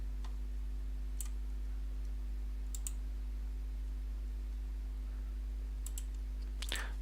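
A handful of faint, sharp computer mouse clicks, some in quick double pairs, tick at scattered intervals over a steady low electrical hum while working in analysis software for a steel sheet model.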